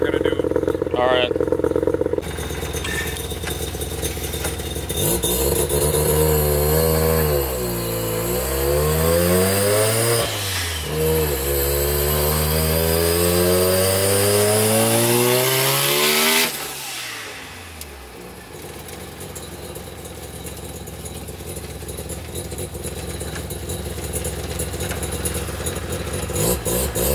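A turbocharged Mazda RX-7 engine revs up and down in several sweeping pulls, loud and close, before settling back to idle. People talk around it.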